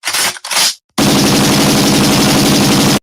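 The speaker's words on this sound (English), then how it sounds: "gunshots all over the place" Two short, loud bursts of gunfire are followed by a brief pause and then about two seconds of continuous rapid machine-gun fire, close and harsh.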